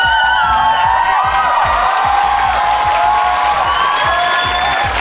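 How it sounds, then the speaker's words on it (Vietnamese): Studio audience at a Vietnamese TV dating game show breaks into loud, sustained applause with scattered cheers and whoops, a dense steady roar of clapping filling the whole stretch. "vỗ tay cái thiệt lòng cho số 2 coi"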